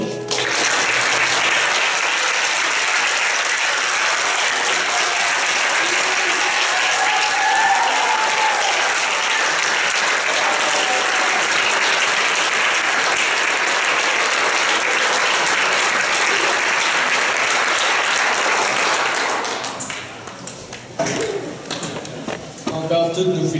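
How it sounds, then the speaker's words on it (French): Steady, dense applause from an audience at a college graduation ceremony in Hearst, filling the hall for about nineteen seconds before tapering off into scattered claps and room noise. "Applaudissons chaleureusement tous nos diplômés."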